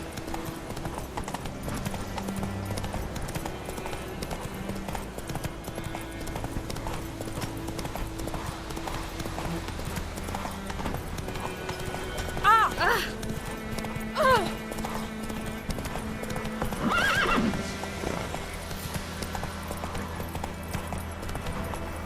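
Hooves of the horse Roach clip-clop in a steady trotting rhythm in The Witcher 3, with a few sharp neighs and whinnies breaking through, under a soft tonal backdrop.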